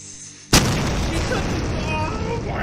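A gas explosion in an animated horror story goes off as a sudden loud boom, then a sustained roaring rumble that fills the remaining seconds.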